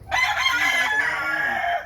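A rooster crows once in a long, strained cock-a-doodle-doo, close by and loud, lasting nearly two seconds with no other sound around it.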